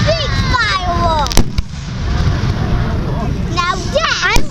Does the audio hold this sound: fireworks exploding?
yes